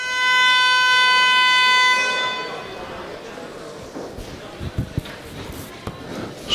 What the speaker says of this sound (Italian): Suona la sirena